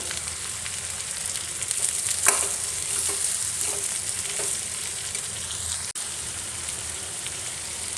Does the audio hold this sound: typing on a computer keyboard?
no